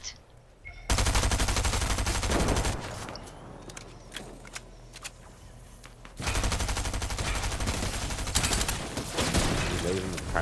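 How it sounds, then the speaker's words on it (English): Loud sustained bursts of gunfire in a Fortnite match, a long volley followed by a quieter stretch of scattered shots and footsteps, then another heavy rapid burst resuming and continuing to the end. "He's trying to snipe me."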